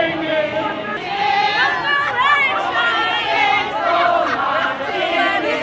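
A large crowd chatters at a Rob Ford memorial in Toronto, a dense, continuous murmur of many overlapping voices with occasional louder calls.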